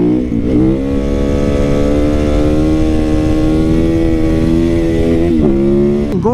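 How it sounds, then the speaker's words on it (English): A Yamaha YZ450FX supermoto motorcycle engine is revved hard, its loud, close roar climbing and holding at high pitch, with quick throttle blips at the start and again near the end. "I'm just going to crank the throttle."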